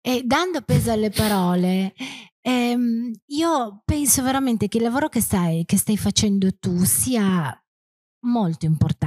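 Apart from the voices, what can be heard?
No everyday noise stands out behind the speech.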